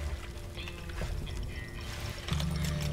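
A character wades into water in the Weird West game, with a steady, close sloshing and pouring of liquid throughout, swelling louder near the end.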